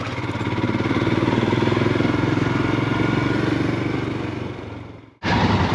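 A loud Royal Enfield Himalayan motorcycle engine drones close by with a rhythmic pulsing, then cuts off abruptly before resuming, at a rider rally in the Euganean Hills.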